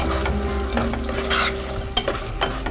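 Chicken pieces frying in a hot pan, a steady close sizzle with a spoon stirring and scraping the pan in short strokes.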